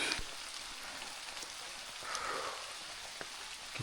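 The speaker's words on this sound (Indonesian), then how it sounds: "Full diguyur hujan, nggak berhenti-berhenti" Heavy, unbroken rain falls on a mountain trail, a dense, even hiss of drops with a few louder patters close by.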